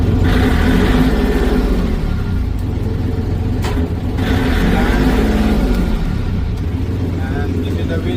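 Lifeboat diesel engine running after preheat, a loud steady rumble with a brief dip midway, close up, with someone talking over it.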